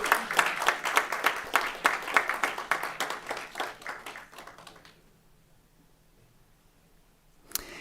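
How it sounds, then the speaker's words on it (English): A school board meeting audience claps for veterans of the U.S. Army, a steady round of brisk hand clapping that thins and fades out halfway through, leaving near silence before a single sharp knock. "If we can give them all one more round of applause"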